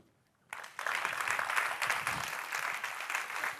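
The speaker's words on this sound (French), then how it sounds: "j'ai envie que vous puissiez les applaudir" Audience applause breaking out after a brief near-silence, a dense steady clatter of many clapping hands that holds loud and even to the end, with no voices above it.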